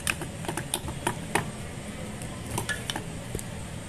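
Chicken 65 marinade ingredients being mixed by hand in a bowl, with a run of soft, close squelching and clinking knocks in an uneven rhythm, no voices.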